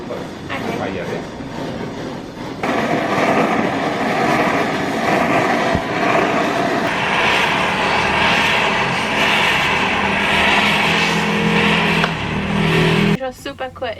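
A hand-pumped jeweller's blowtorch flame heats silver at a ring-making workshop in Bali, a steady broadband roar that swells after a few seconds and holds close and loud before cutting off, with a voice speaking early on.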